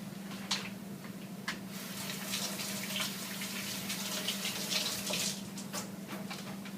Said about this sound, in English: gotta rinse my hand off